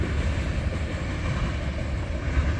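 A Canadian National train passing at a rail junction, a steady, fairly loud rumble of rolling cars that holds through the whole moment with no voices.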